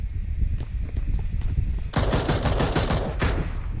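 Gunfire in a PUBG Mobile match: faint scattered shots at first, then a loud, rapid automatic burst breaks out, pauses briefly and resumes.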